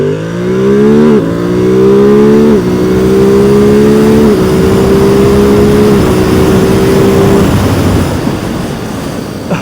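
A Ducati Monster 950 motorcycle accelerates hard, engine note climbing through several gears with brief dips at each shift, loud and close before fading away near the end.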